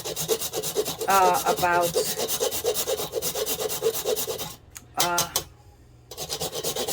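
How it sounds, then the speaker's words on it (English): A whole nutmeg grated by hand on a grater for butternut squash ravioli, a close, rhythmic scraping of quick repeated strokes that pauses briefly, with a few spoken words partway through. "what I'm going to do is literally just grate"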